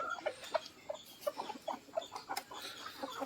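Village poultry coop holding several hens with a rooster, clucking in a steady run of short, repeated calls at moderate distance, with no talk.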